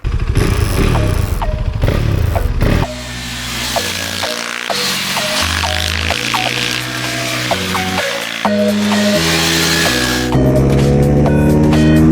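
A KTM RC390 motorcycle fitted with Metzeler Sportec M5 Interact tyres is ridden close by. The engine revs climb and drop in steps as it shifts through the gears, loud and clear with no voices.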